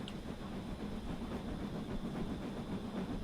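Model Flying Scotsman locomotive running on a TT:120 or OO layout, a continuous rumbling, clattering drone with faint rhythmic clicks, close and steady throughout.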